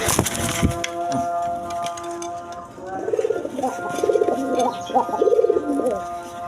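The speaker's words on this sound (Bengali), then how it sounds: "দেখেন একদম বিগ সাইজের কবুতর দেখেন" Large pigeons at a pigeon farm coo in repeated soft, throaty bursts, close by, over a faint background hum after a brief noisy start.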